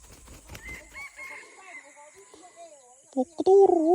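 A fighting rooster beats its wings in a few quick, soft flurries, then lets out a loud, close crow near the end, while people talk nearby.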